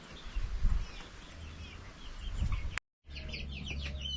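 Quiet clucking from Puerto Rican chickens close by at a coop, in soft scattered bursts, broken by a brief moment of silence.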